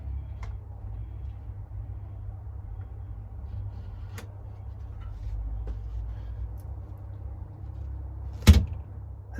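The door of an indoor grow cabinet for chili seedlings shuts with one short, solid thud near the end, following a long stretch of low steady hum and a few faint taps.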